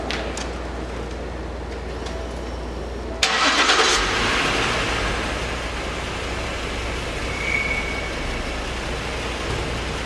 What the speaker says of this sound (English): I will turn on the vehicle and turn the tire.